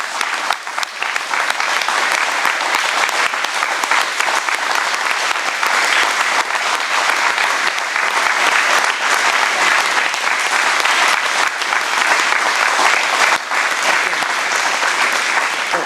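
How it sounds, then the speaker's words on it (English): Loud, sustained applause from a standing crowd at a hometown heroes closing ceremony in Westerlo, honoring local heroes and their families, dense and unbroken from start to finish. "Please stand and give these heroes and their families a very loud round of applause"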